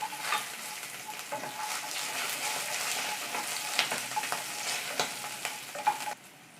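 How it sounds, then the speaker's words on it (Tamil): Green chillies and garlic sautéing in a pan for vegetable pulao, a steady soft sizzle with occasional stirring scrapes, moderately close, ending abruptly. "பச்சை மிளகாய் வதங்கின பிறகு பூண்டு ஒரு 10 பல்லு"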